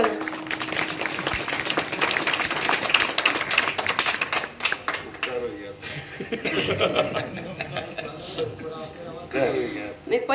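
Audience clapping during a devotional kirtan gathering, a dense burst of hand claps that fades around the midpoint before a second wave rises, mixed with voices and laughter throughout.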